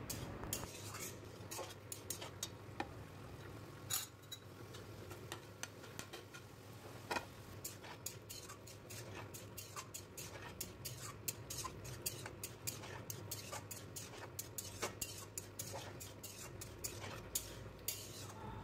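A spoon or spatula scrapes and taps against a pan while potatoes are stirred with spices, in quick irregular metallic clicks, quiet and close, with no talk over it.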